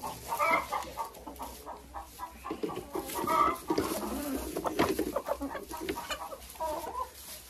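Hens in a dacha yard cluck close by, a steady run of overlapping clucks and short calls with no talking.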